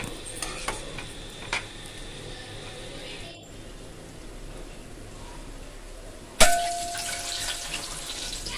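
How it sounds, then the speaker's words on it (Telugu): Boiled eggs frying in oil with turmeric in a pan, a faint steady sizzle with a few light knocks and a sudden loud clatter near the end. "ఈ లోపు గుడ్లు ఉడకబెట్టాను కదండి అవి కూడా వేయించేసుకుంటాను"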